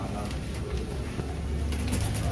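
Teddy pigeons coo at the Shahdara pigeon market in Lahore, soft and low beneath a steady blanket of market noise, with people talking nearby.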